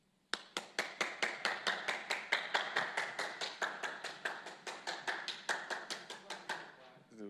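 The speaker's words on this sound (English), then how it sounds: "Let me get a round of applause for him." Crisp, rapid rhythmic clapping of a small group applauding a Seattle Seahawks linebacker at a postgame press conference, evenly spaced hand claps running steadily for about seven seconds, up close with no talking.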